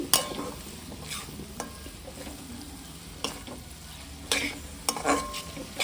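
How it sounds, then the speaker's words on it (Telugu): Potato masala with spices stirred in a hot pan, giving a continuous low sizzle broken by occasional sharp spoon scrapes and clinks against the metal, close and moderately loud, with no speech. "వేసేసి బాగా కలిపి అన్ని స్పైసెస్ అన్నీ బాగా కలిసేదాకా కలిపి"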